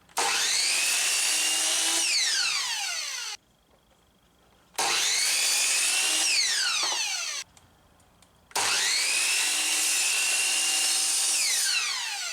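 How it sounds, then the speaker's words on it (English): A power tool cuts small strips from knife steel in three loud sustained bursts, each with a whining, rising pitch, separated by short near-silent pauses. "Here I'm just cutting a couple little strips off so I can try to see if they harden or if the steel's appropriate for a knife."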